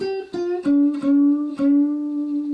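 A twangy plucked cigar box guitar plays a few short notes damped by right-hand muting, then a sustained low note ringing on, close and clear with no voices.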